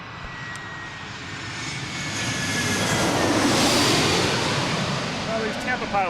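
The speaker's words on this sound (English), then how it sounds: "Next coming in, we have American Airlines coming in from Tampa." An American Airlines jet arriving from Tampa at DCA airport makes a rising, then fading engine roar as it passes close by, with a faint voice at the end.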